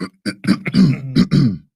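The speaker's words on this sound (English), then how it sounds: "My favorite thing to do now, though, when I take public transportation is to clear my throat." A person clears their throat on public transportation: a short series of rough, guttural rasps and hums, close and loud, with brief gaps between bursts.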